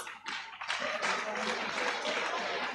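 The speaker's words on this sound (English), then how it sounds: "Let's give a very big hand clap to the candidates." Audience at a university guild presidential debate claps in a steady burst of hand claps, moderately loud and continuing to the end.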